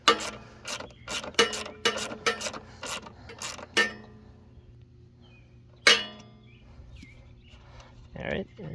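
Bolts come off the grass chute of a Bolens 450E lawnmower, with a burst of quick ratcheting clicks, a pause, another sharp ratchet, then quieter handling noises and a brief voice.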